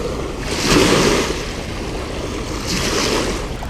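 Lake waves wash against the shore at a summer bank-fishing spot, two soft surges of surf about two seconds apart over steady wind noise, no voices.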